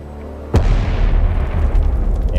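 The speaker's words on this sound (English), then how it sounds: "Reactor 3 is rocked by a hydrogen explosion similar to that in Unit 1." A hydrogen explosion at a nuclear reactor building, unit 3, erupts as a single sudden, loud boom after a quiet moment, then rolls on as a heavy low rumble with debris noise.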